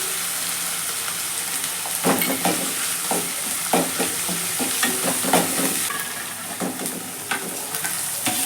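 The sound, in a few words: spices and ginger-garlic paste frying and being stirred in oil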